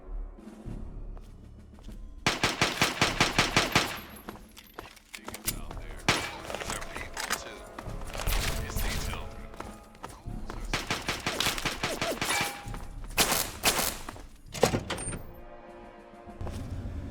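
Automatic gunfire at a shooting training range in the video game Fallout 3, with rapid bursts and repeated volleys of shots, loud and close, mixed with some clanks and movement sounds.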